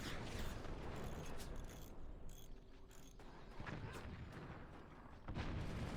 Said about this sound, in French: tire ces canons groupés